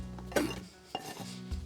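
Chopped grilled onions are dropped into a bowl with a couple of soft clinks and scrapes of a utensil against the dish, quiet and brief.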